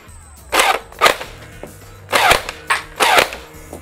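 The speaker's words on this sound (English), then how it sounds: "This can fire semi-automatic." A Nerf AA12 blaster fires semi-automatic in five sharp, loud, close snapping shots spaced unevenly about half a second apart, with brief quiet gaps between them and no talk.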